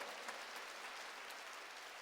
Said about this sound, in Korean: 이게 믿음인 걸 믿으면 박수로 하나님께 영광 돌려